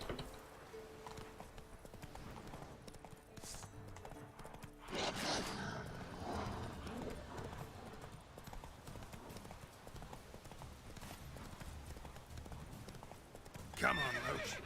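Roach the horse galloping in The Witcher 3, a continuous rhythmic clip-clop of hooves running for many seconds, moderately loud with a brief whinny near the end and voices talking faintly at times.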